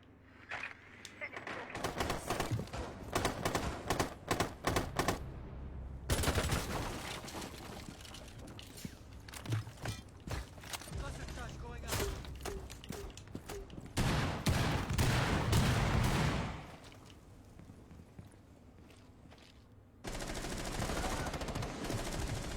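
Gunfire in the tactical shooter Rainbow Six Siege: rapid bursts of automatic fire, loud and close, broken by short pauses and a stretch of sustained shooting, with a player talking in between.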